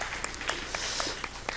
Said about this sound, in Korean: 우리 살아계신 하나님께 영광의 박수를 올려드립시다.